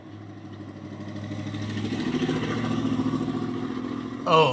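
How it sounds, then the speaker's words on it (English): Broken car engine running roughly, a clattering mid-pitched idle that swells and grows uneven, ending in a sharp louder burst of rattling. "That car is broken. That doesn't sound right at all."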